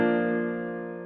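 A single sustained piano chord, shaped with EQ, RC20 retro color, reverb, flanger and stereo widening, rings out smoothly and slowly fades over about a second, alone and fairly soft.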